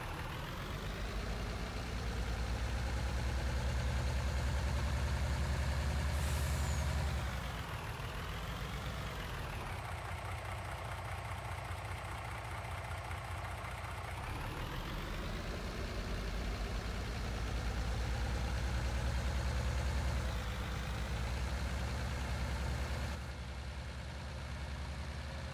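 A truck engine in Farming Simulator 2019 drones steadily at a low idle, rising and falling in pitch as the revs change, fairly quiet and alone without talk.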